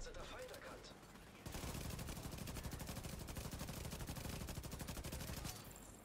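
Rapid, sustained automatic gunfire in the video game The Division 2 rattles loudly for several seconds amid game-like ambient noise, after a quieter stretch with faint background sounds.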